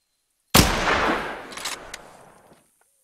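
A single long-range rifle shot fired in the hunting game theHunter: Call of the Wild cracks sharply out of silence, then a booming echo rolls and fades over about two seconds.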